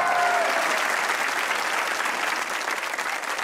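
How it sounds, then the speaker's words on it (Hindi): Studio audience at a comedy talk show bursts into steady, dense applause, loud at first and easing slightly toward the end, with no talk over it. "तो बजाइए तालियां"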